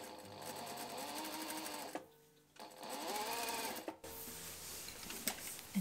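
A sewing machine stitches a rolled hem on a dress, running in close, steady whirring bursts with a brief stop near the middle and a short pause before the end.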